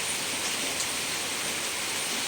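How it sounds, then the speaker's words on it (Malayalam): Heavy rain pours down in a steady, dense hiss that stays even and unbroken throughout, with no voices over it. "ശക്തിയായിട്ടുള്ള മഴയാണ്"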